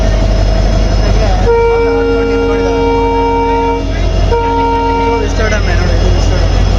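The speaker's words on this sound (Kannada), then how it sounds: "ಎರಡು ಟ್ರೈನ್ಗಳು" A Vistadome passenger train passes close by with a long, loud horn sounding in steady tones over heavy rail rumble, then a second horn blast after a short break.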